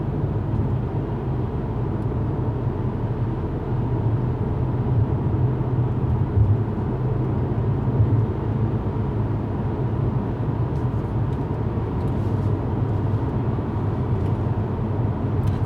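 A 2020 Mercedes-AMG CLA 45 S 4MATIC+ cruises in comfort mode, heard from inside as a steady, low engine and road drone that stays even throughout with no talking.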